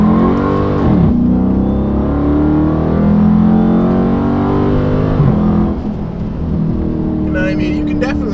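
Dodge Charger Daytona 392 V8 engine revving loudly up close, a deep sustained roar with rising and falling pitch across several throttle blips, settling near the end.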